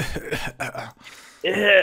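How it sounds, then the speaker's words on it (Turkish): A man coughs during a Minecraft Egg Wars game, several rough bursts followed by one louder, drawn-out cough at the end, close to the mic. "Öksürüğümü duydun değil mi?"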